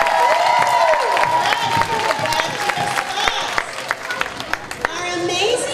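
Students and staff at an elementary school morning assembly give a giant round of applause, clapping and cheering under children's chatter and a voice on the microphone.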